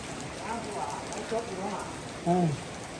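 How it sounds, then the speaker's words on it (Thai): Light rain patters steadily and softly on surfaces outdoors, with a few brief voices or bird-like calls rising over the drizzle. "พามาดูมาชมบรรยากาศฝนตกนิดเนาะ"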